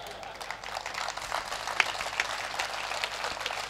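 Audience applause at a Hindi poetry recital, a steady wash of many hands clapping at moderate distance, fairly even throughout with a few sharper claps standing out.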